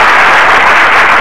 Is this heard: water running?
no